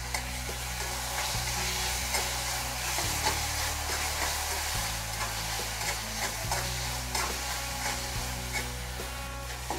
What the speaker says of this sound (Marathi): आता हे आपण चांगलं परतून घेऊ।